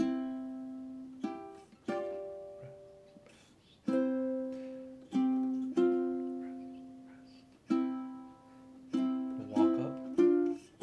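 A plucked string instrument, likely ukulele, plays a verse mixing single open-string notes and strummed chords, each attack ringing and decaying in an unhurried rhythm, close and clean with no talking.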